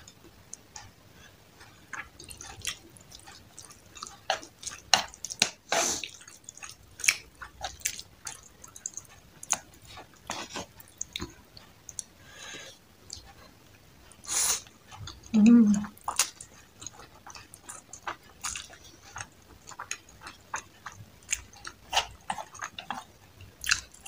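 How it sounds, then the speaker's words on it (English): Close-up chewing and biting of cheesy rice cakes, soft sticky clicks and wet mouth sounds at an irregular pace, quiet overall with a few louder bites, and brief speech in between. "Rice cake."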